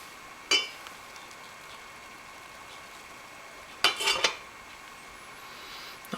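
A whisk stirring sauce in a cooking pot for lemon savory turkey makes sparse metallic clinks: one sharp knock early, then a short cluster of scrapes and taps later, over a quiet background.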